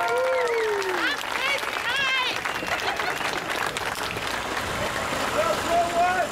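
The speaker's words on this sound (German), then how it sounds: "Ein Applaus für die Hanf-Freiheitsstatue." Outdoor applause and cheering from a crowd at the Hanfparade 2011 street rally, with whistles and shouts rising over a busy street background.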